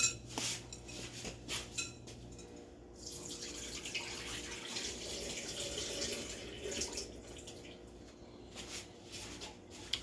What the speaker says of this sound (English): Let me pour this water out, and then I'm going to put some fresh water in there.